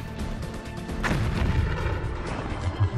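A gun fires a high-speed projectile in an impact test, giving one sharp, loud boom that is followed by a rumbling, noisy decay with no talking.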